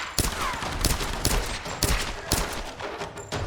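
Gunfire in the video game Tomb Raider (2013): a burst of heavy, booming shots repeats at a steady rhythm of roughly three or four per second, loud and dense with echoing tails, and no talking over it.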